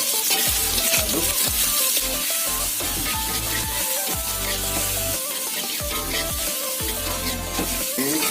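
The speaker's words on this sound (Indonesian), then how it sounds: "kita aduk terus sampai matang, sampai wangi bawang dan daging serta baksonya dari keluar" Meatballs, garlic and meat frying in a pan for fried rice, stirred continuously: a steady loud sizzle with repeated scraping and clinking strokes of the spatula, no talk.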